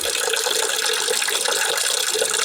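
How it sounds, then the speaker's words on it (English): Water draining from a water heater during plumbing winterizing, a steady close splashing flow with a faint rattling, mechanical texture and no voices. "so the water heater will start draining"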